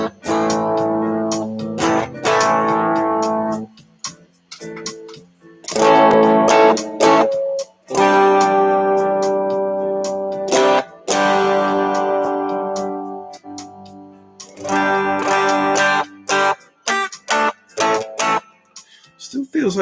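Electric guitar played through a distortion effect, strummed chords ringing in bursts separated by short gaps, fairly loud and close.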